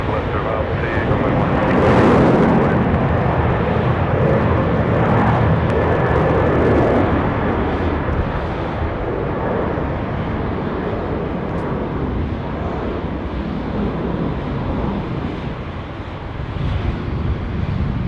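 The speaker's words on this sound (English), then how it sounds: "the A332 off the Jakarta gets going under 16 right" An Airbus A330-200 arriving from Jakarta rolls for takeoff on runway 16 Right at Sydney Airport, a broad jet roar swelling early and holding steady at a distance, with wind buffeting and a voice talking throughout.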